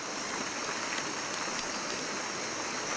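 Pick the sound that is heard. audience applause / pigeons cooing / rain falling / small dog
rain falling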